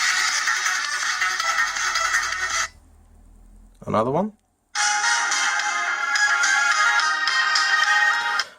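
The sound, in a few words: ringtone played through the DZ09 smartwatch speaker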